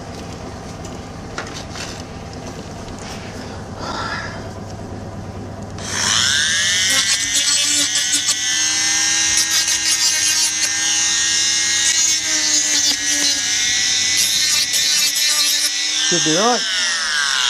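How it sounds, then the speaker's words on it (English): A Dremel rotary tool grinds on a metal moulding box with a high, steady whine that starts abruptly partway through and continues loud and close, then briefly dips in pitch near the end. Someone speaks briefly. "Just run around those with the Dremel"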